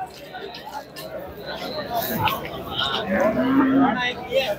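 A cow, at a cattle fair with Sindhi cows, moos once, close and drawn out, while people talk and chatter all around.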